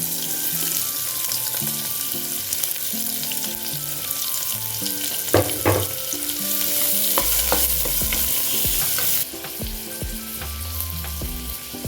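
Green chillies and onions fry in a hot pan with curry leaves, a steady loud sizzle broken by scraping stirs and clinks of a utensil, with no talking.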